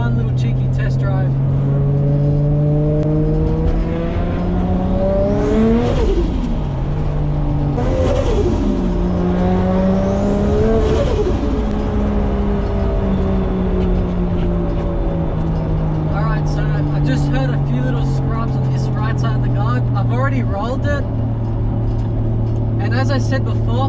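A modified Nissan Skyline R33 on BC Racing coilovers during a test drive: a loud, steady engine drone from inside the cabin that rises and falls through gear changes, with a voice partly audible over it.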